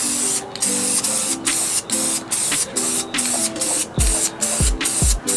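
An aerosol can sprays matte black paint onto a car's fuel door in a rapid series of short, loud hissing bursts with brief gaps between them. Each burst runs about a third of a second, and the pace stays regular throughout.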